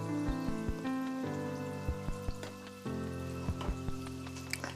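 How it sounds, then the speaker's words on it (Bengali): Kalojam sweets frying in a pan give scattered crackling pops and a light sizzle under steady background music. "আমি মিষ্টির সব পাশ সমানভাবে ভেজে নিচ্ছি"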